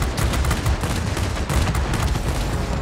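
Rapid, continuous bursts of aircraft cannon fire from wing-mounted 30mm cannons on an A6M3 fighter in the World of Warplanes video game, a dense rattling stream of shots with no talking.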